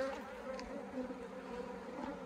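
Honeybee colony inside an open hive during a post-harvest inspection, giving a steady, dense buzzing hum that holds unbroken and fairly close throughout, with no talk over it.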